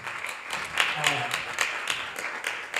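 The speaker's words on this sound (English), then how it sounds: "A round of applause for Tamara." Audience applause at an Atlanta school board candidate forum, a steady patter of many hands clapping under a voice talking over it.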